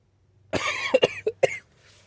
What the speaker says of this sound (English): I was actually coughing because I swallowed a piece of dirt.